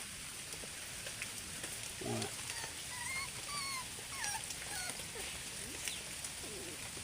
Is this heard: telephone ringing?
no